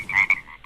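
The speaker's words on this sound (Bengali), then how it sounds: "ব্যাঙ ডাকে ঘ্যাঙর ঘ্যাং।" Frogs croak in a single short, loud, close burst of rasping calls, heard alone.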